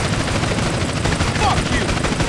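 Gunfire in the video game GTA San Andreas rattles in a loud, dense, continuous stream of rapid shots throughout.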